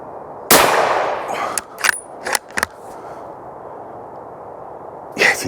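A Weatherby Mark V rifle fires a single loud, sharp shot at a roe buck about 40 yards off, with a long echoing tail, followed by a few fainter mechanical clicks and clanks of the action.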